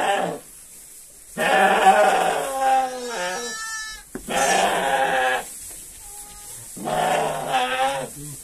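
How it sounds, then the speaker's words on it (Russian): Sheep bleating near newborn lambs: three loud, drawn-out bleats in turn, each wavering and harsh, close by with brief quiet gaps between them. "Когда вот так вот овцы кричат"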